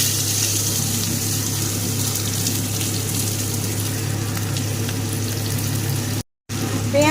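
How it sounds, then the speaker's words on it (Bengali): Chopped onion and bay leaves frying in melted sugar and oil, a loud steady sizzle and crackle filling the pan throughout, briefly cut off near the end. "পেঁয়াজ দিয়ে দিয়েছি, এবার পেঁয়াজটাকে লাল লাল করে ভেজে নেব।"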